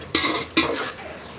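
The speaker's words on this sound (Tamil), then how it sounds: "உருளைக்கிழங்கு, பீன்ஸு, கேரட்டு எல்லாம் கலந்துக்கிறேன்" Two quick scraping strokes of a spoon through potatoes, beans and carrots in a metal pot for vegetable biryani, close and clattery, then a faint simmer.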